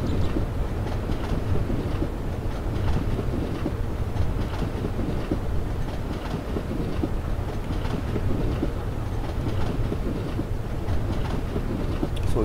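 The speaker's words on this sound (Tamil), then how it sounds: "இதில் கூட ட்ராக் சவுண்ட் நல்லா இருக்குது." Steady, continuous rumble of train wheels on rails in the MSTS train simulator game, an even rolling roar with faint rhythmic clicks throughout and no talking.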